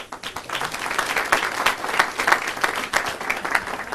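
Applause fills the hall for Gov. Scott Walker at the New Hampshire Republican Leadership Summit, dense steady clapping from a large crowd that holds at an even level throughout.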